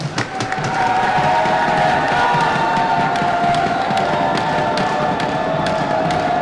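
A crowd at a Blitzball battle game cheers and yells, building after a brief opening into a sustained roar with sharp claps and thuds scattered through it.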